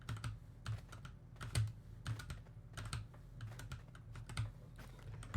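Computer keyboard keys pressed while playing Valorant, producing quiet, irregular clicks and taps at close range against a low background hum.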